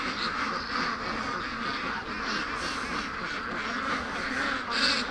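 A bunch of free-range ducks quacking steadily in a yard near a pen, a dense overlapping chorus of calls running throughout, fairly close and moderately loud.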